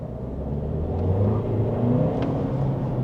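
BAIC X55 mid-size SUV accelerating in Auckland traffic, heard from inside as a low engine rumble that swells and holds steady with a faint whir, with no talk.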